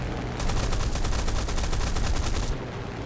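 A Spitfire LF Mk IX fires its machine guns in War Thunder, one loud, rapid continuous burst lasting about two seconds over steady engine drone.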